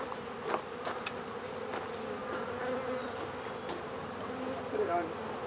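Honeybees at an open hive during an advanced beekeeping class, giving a dense, steady, close buzz that holds throughout, with individual bees droning nearer now and then.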